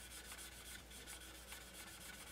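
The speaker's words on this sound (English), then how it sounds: "If we keep sanding at that" Steady sanding strokes on a plastic 1:24 Tamiya Nissan Silvia model car body, a faint, even rubbing hiss repeating close by with no voices.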